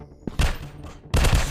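Two loud close bursts of rapid gunfire in a PUBG-style first-person shooter game, separated by a short pause.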